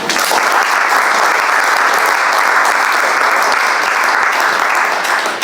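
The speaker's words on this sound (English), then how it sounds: "A big round of applause." Dense, sustained applause from a large crowd, loud and even throughout with no pauses.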